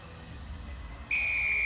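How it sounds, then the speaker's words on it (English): A referee's whistle is blown for the kickoff of a school rugby final, a single loud, sustained shrill blast cutting in over the faint murmur of an outdoor crowd. "blow the whistle for kickoff as"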